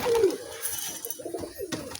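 Pigeons being fed wheat, with soft cooing calls nearby, a few murmured coos over faint background rustling.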